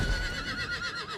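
Horse whinnying in the video game Diablo IV, a short quavering neigh lasting about a second, moderately loud over a steady game background.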